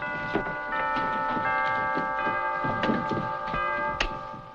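Several bells ring in a house in a 1940 film scene, clanging in overlapping, resonant strikes with long sustained tones, fairly loud and close, with no voices over them.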